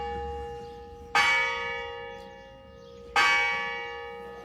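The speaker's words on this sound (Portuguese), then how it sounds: "deixem de facto agora aqui o sino descansar" A church bell at a parish Sunday Mass in Espinhel, Águeda, struck twice about two seconds apart, each loud clang ringing out and slowly fading with a sustained metallic hum.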